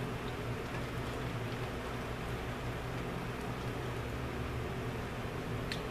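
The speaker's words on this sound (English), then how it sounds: "It's raining like crazy out there." Heavy rain pours steadily, a dense, unbroken hiss of drops with a low rumble underneath, constant in loudness throughout.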